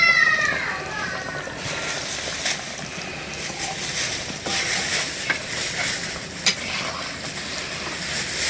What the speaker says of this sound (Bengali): এখন দিয়ে দেই মাছ ভাজা